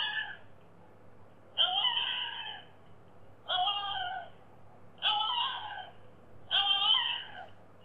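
A puppy whines in five high, drawn-out cries spaced about a second apart, each rising and falling in pitch, close and clear over a faint steady hum.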